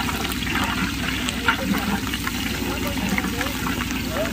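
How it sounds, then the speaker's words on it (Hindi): Green chillies fry and brown in a hot pan in a home kitchen, giving a steady, fairly loud crackling hiss that runs evenly throughout, with a faint murmur of voices underneath. "अब इसमें हम डालते हैं हरा मिर्चा। हरा मिर्चा को भी हम ब्राउन कर लिए हैं।"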